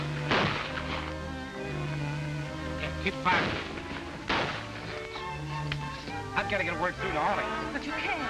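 Gunfire crackles through a 1939 western film scene, with several sharp shots and booms scattered over a music-and-voice soundtrack as people shout under the shooting.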